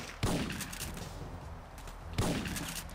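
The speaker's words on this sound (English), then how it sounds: "Alright, shotgun time." Two loud, close shotgun blasts from Syphon Filter 2, spaced about two seconds apart, each a sharp crack that booms over a steady background rumble.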